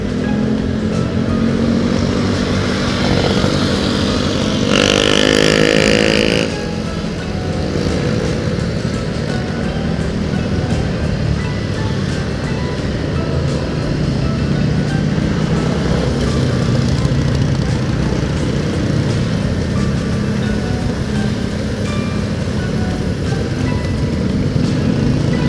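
A motorcycle rides through the city streets of Bandar Lampung, its engine a steady drone under continuous road and wind noise, with a brief louder burst of passing traffic early on and no speech.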